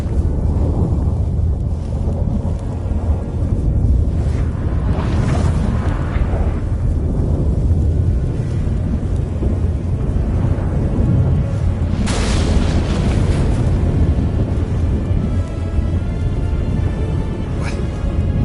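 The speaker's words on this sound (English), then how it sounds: "That a storm?" A violent thunderstorm in The Witcher 3 video game roars continuously with heavy rumbling, wind and booming cracks, loud and dense throughout.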